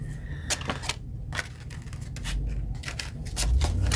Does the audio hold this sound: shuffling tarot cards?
yes